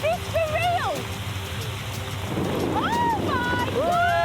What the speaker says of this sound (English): It don't rain like this in Manchester